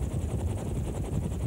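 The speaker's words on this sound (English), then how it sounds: "AH-64 Apache attack helicopters." AH-64 Apache attack helicopter in flight, a steady throbbing rotor drone with rhythmic blade pulses at moderate loudness, heard alone without voices.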